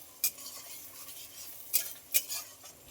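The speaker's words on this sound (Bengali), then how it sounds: "মশলাটা দিয়ে একটু নেড়ে নিলাম" A spatula scrapes and stirs spices into browned fried onions in a pan, with a soft background sizzle and three or four sharp metallic clinks spaced apart, fairly quiet and close.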